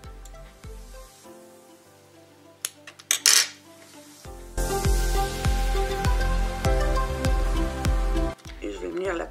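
Cardstock is cut for a child's scrapbook birthday shaker card: scattered clicks and handling noises come first, followed by a sustained crisp rasping cut with rhythmic ticks that stops near the end.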